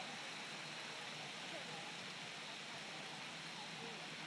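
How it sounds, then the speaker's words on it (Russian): Light warm summer drizzle in Kyiv, a soft, even hiss of fine rain that holds steady and quiet for the whole stretch, with no other distinct sounds. "Чуть-чуть моросит такой"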